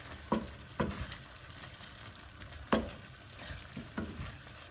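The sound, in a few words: stirring onion jam in a pan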